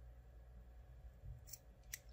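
Scissors snipping off excess crochet yarn: two quick, faint cuts near the end of a quiet stretch, close to the microphone.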